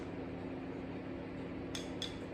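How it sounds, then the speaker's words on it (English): Two light, brief clinks of a spoon against a cup while stirring a strong cup of coffee, close by in an otherwise quiet kitchen. "I want to stir this"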